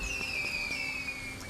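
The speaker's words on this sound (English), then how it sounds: "You want to set up some fireworks," Fireworks go off in a video game, a descending whistle streaking down and fading over a steady background hum, with a faint pop at the end.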